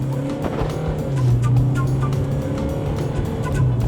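A Hyundai Creta pulls away under hard acceleration, its engine note droning steadily and rising in pitch, heard from inside the car with a steady road roar.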